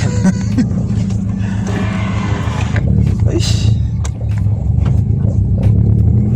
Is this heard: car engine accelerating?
yes